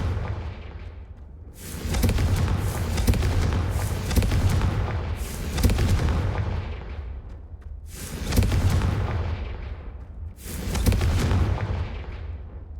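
Confringo blasting spells explode in Hogwarts Legacy: about six heavy booms, each with a rumbling tail, arrive at irregular intervals a second or two apart, loud and close, with no talking.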